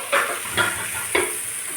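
Cooked dal being dumped into a hot pan for vakkaya pappu, giving a few short sizzling bursts and a stirring scrape over a steady high hiss.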